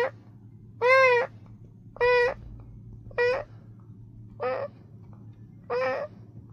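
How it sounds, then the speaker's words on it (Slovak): A six-week-old male kitten in severe pain crying out: five loud, drawn-out wailing cries spaced about a second apart, close and alone over a faint background hum. "To bol plač asi 6-týždňového kocúrika v ukrutných bolestiach."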